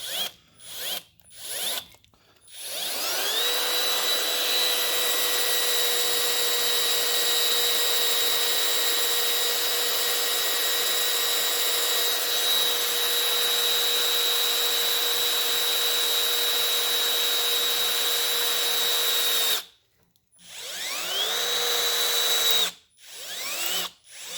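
A power drill whines at a steady pitch for about fifteen seconds drilling into a cast iron Ford FE big block engine, stops, then starts again briefly with a couple of short bursts.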